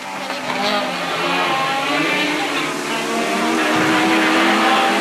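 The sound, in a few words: rallycross car engine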